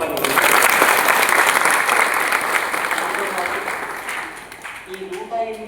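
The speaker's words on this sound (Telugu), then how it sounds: "సమకూరుస్తున్న స్వాములు కూడా చప్పట్లు కొట్టాలి." Devotees at a Hindu devotional gathering with 108 lamps clap for the swamis: a loud, dense round of applause that gradually fades, with a few voices and a musical tone emerging at the end.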